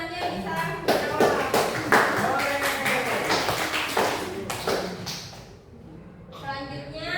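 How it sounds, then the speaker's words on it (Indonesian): A classroom of students claps for a classmate who answered correctly, a burst of scattered hand claps that fades after about five seconds, with a voice speaking over it. "Tepuk tangan buat temannya yang bisa menjawab."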